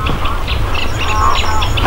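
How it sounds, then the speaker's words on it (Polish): Birds calling beside Lake Berzyńskie in Wolsztyn, with bright overlapping chirps and quacking duck-like calls repeating over a steady low rumble of wind or ambient noise, fairly close and continuous. "Masa po prostu ptaków tu jest"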